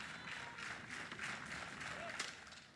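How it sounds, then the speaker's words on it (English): Softball crowd at a Missouri Tigers versus Mississippi Rebels college game, cheering and clapping steadily with two outs in the top of the seventh inning, a continuous mid-distance roar of applause and voices. "Crowd getting behind Aaliyah Binford with 2 down in the top half of the 7th."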